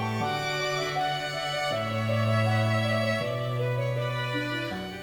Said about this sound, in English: Polyphonic music can sound like this,